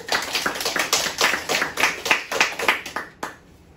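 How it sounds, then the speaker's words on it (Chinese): An audience applauds in warm welcome for a teacher at a public-speaking class, a dense patter of clapping that swells and then cuts off sharply near the end. "就让我们用最热烈的掌声来欢迎我们从台北红到高雄，又从高雄又红到台北的李厚昌老师"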